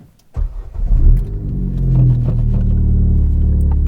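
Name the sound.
straight-piped Ford Fiesta ST engine starting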